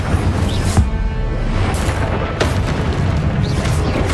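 Fiery spell blasts from the Incendio fire spell in the video game Hogwarts Legacy, loud booming bursts over a dense, continuous roar of battle noise.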